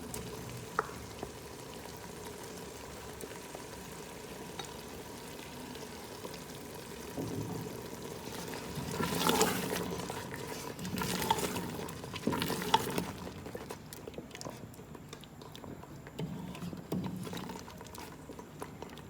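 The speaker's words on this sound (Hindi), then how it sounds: "अब सबसे एंड पे मैं क्रीम डाल रही हूँ," Cream added to mutton palak gosht and stirred in a pan: quiet simmering bubbles and a few louder stirring scrapes around the middle, close and faint, with no talking.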